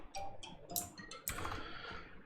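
Typing on a computer keyboard, a quick scatter of light, crisp key clicks in short bursts, close and fairly quiet with no voice.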